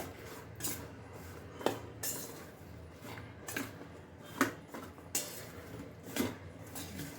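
Spice masala is mixed into carrot pieces for a carrot pickle, producing quiet, rhythmic scraping and soft clinks of a utensil against the bowl at a steady pace, close and without talk.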